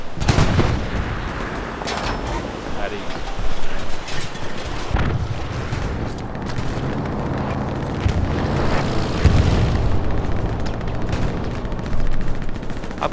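Loud gunfire and artillery blasts in the World War II shooter Hell Let Loose, a dense battlefield barrage of rifle and machine-gun bursts with heavy booms and aircraft drone, continuous for over ten seconds without speech.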